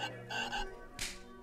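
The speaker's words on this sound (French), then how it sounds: "Quand on passe devant, elle fait un bruit de crapaud." A novelty frog decoration lets out a motion-triggered toad croak, a short raspy electronic croaking burst repeated a few times at close range, quiet and without voices.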